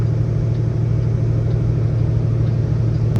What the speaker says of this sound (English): we just picked up the Freightliner. We're on the highway right now, 6th gear, going like 20 miles an hour